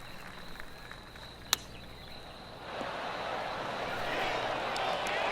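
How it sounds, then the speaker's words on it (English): Scattered golf clapping around the course at the Tour Championship in PGA Tour 2K25, a soft, distant patter of applause swelling in the second half after a single sharp tap. "I can hear the golf claps around the course"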